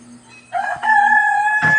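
A rooster crows once, loud and close, a drawn-out tonal call that rises and holds for about a second, with faint clucking just before it.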